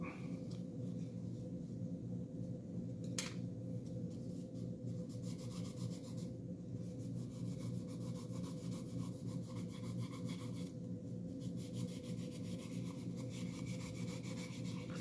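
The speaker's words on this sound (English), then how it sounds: "As you can see, polishing stuff takes time, people." Knife parts for a Cold Steel Recon 1 are polished by hand, producing a steady, close rubbing and scraping of quick repeated strokes over a low background hum, with no talking.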